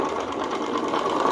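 A small fizz whiz model engine runs fast, flame coming out of it, giving a continuous dense buzzing whir at steady loudness with no talk over it.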